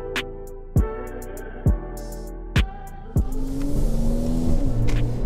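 A Mercedes AMG car fires up with a loud engine start: a few sharp starter pulses, then a burst of revving that settles into a deep, rumbling idle, close and prominent with no voices.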